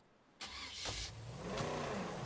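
A car engine starts up in the video game State of Decay, an abrupt crank that catches and rises into a revving, rumbling idle, heard alone and close.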